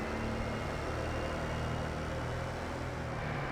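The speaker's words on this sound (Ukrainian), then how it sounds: "і везу насіння на базу новим трактором" Engine of a new Massey Ferguson tractor driving in Farming Simulator 22, a steady low droning hum with constant loudness throughout, alone without talk.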